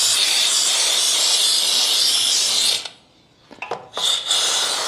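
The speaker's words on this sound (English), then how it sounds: "Let that steam clear." Steady loud hiss from a steam cleaner blasting a motorcycle engine, running continuously before cutting off briefly, then sputtering back in short bursts and resuming.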